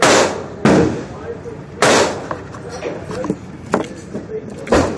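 A Sig Sauer P220 Scorpion Elite .45 pistol fires several loud, sharp shots at uneven intervals outdoors, each a close crack with brief echo, with quieter clatter and movement between shots.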